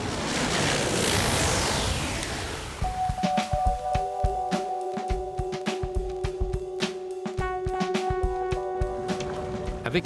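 Sea surf rolls in along the shore at Saint-Barthélemy, a steady loud wash of waves in wind, soon joined by a sustained tonal hum and scattered sharper knocks.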